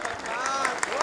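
Steady applause from a theatre audience at a drama academy fills the space, a continuous wash of clapping with tonal sounds ringing over it.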